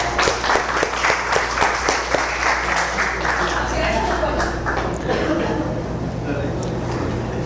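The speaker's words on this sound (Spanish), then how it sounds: "Aplausos para todos." An audience at a higher-education sustainability event breaks into applause, a dense patter of many hands clapping strongly before tapering off, with voices mixed in under it.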